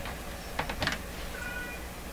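A cat meows near a computer keyboard in a room where an old Electrohome music box radio is being restored, with faint quick keyboard-like taps and a soft meow.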